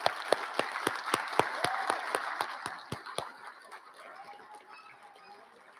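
An audience at a graduation ceremony claps in a scattered burst of applause heard from a distance, with distinct hand claps in the first three seconds that thin out and fade into a quiet room.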